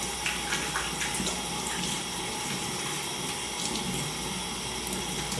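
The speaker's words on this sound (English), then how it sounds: "Wash your hands." Water runs steadily from a kitchen sink tap as hands are washed, a continuous close splashing hiss with no talking.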